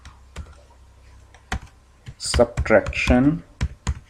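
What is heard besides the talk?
typing Python code on computer keyboard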